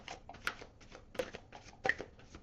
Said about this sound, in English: they just kind of fall out too easily when I shuffle them like this